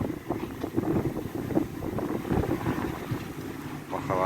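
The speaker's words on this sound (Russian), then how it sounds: "Сегодня ветрено, погодушка у нас меняется." Gusty outdoor wind buffets the microphone in uneven bursts on a changeable day, with faint background rustling.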